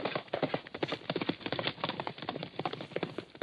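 Horse hooves clip-clop in a steady, brisk rhythm as a radio cartoon sound effect, close and clear with no talking over it.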